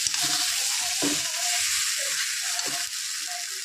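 Spices sauté in a pan for a snakehead fish curry, a constant bright sizzle with intermittent stirring scrapes and soft clinks of the spatula, close and fairly loud, without any talking.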